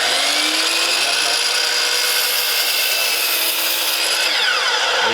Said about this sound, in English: make sure that the saw is at full RPM before you bring it down